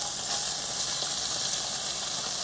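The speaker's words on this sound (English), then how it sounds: "I've got my garlic and ginger sauteing." Garlic and ginger sautéing in a pan for Thai chicken curry, a steady bright hiss of sizzling oil with no breaks.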